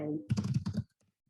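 Quick keystrokes on a computer keyboard as a note is typed, a rapid cluster of soft clicks up close, ending in a few isolated taps.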